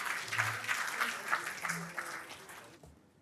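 Audience applause for panel speakers at an industry conference session, moderate clapping with voices talking over it, tapering off toward the end.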